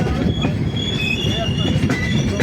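The Shri Shakti Express rolls into Jammu station with a continuous rumble, rail clatter and high, sustained wheel squeals, heard from on board at close range.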